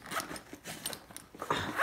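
Short rasping zips and rustles nearby, the outside zipper of a Wild River tackle bag pulled open in a few quick strokes with fabric handling between them.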